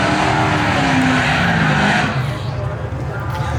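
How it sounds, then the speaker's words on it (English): A nitrous Hellcat Charger and a Fox body Mustang race a 1/8-mile drag strip at Street Car Takeover Houston, with loud, steady engine roar and tire squeal that fades slightly toward the end. "Looks like we got a nitrous Hellcat versus some sort of Fox body."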